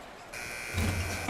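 The end-of-quarter buzzer in the NBA Live 19 basketball game blares as a loud, steady electronic buzz that starts abruptly and holds to the end. A commentator's voice talks underneath it.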